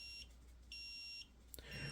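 DOVOH K4-360G laser level sounding warning beeps, two faint high-pitched electronic tones about half a second each, separated by a short gap, followed by a brief clatter.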